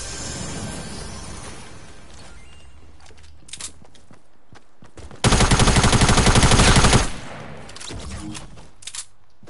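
Fortnite gunfire erupts as a long, rapid burst of loud automatic shots lasting a couple of seconds, with a few scattered single shots and quieter game sounds before and after.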